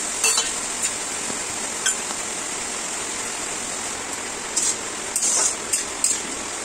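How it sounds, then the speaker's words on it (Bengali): Cashews and raisins are stirred for fried rice in a pan on low flame, with occasional scraping and clinking of a spatula over a constant rushing wash of heavy rain. "কাজু কিশমিশটা দিয়ে আরও 1 মিনিট নাড়াচাড়া করে নিলাম।"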